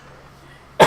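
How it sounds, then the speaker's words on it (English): A single sharp cough bursts out close to the microphone at the very end, after a moment of near silence on a podcast with a local comedian. "I got a cough right now."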